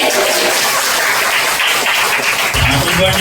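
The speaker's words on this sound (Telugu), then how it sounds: "అందరూ గట్టిగా చప్పట్లు కొట్టండి." Church anniversary congregation clapping loudly, a dense, continuous wash of many hands that fills the room and runs throughout.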